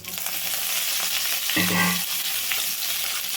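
Chopped curry leaves and coriander go into hot oil with chilli pieces in a pan. The sizzle flares sharply as they drop in, then settles into steady frying with faint stirring.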